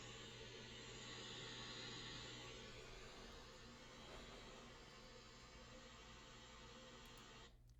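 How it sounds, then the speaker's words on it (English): White noise playing steadily through an acoustic interferometer for measuring the speed of sound in gas, a constant broadband hiss that holds for nearly eight seconds and then cuts off abruptly at the end. "what is playing through the acoustic interferometer, which is white noise"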